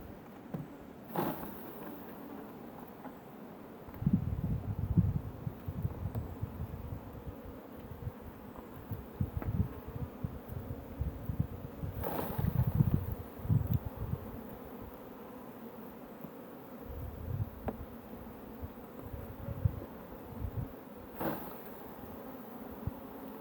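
Honey bees buzz steadily around a small apidea mating hive, a close, continuous drone that swells and fades as insects pass near, with occasional louder bumps and no talking.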